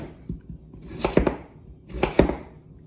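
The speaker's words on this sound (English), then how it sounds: "So I've got some sweet potato here. I love sweet potato. So I'm going to cut it into bite-sized pieces." Two sharp knife chops cut sweet potato into bite-sized pieces on a board, each a quick cluster of crisp thuds about a second apart, close and fairly quiet with a few lighter taps before them.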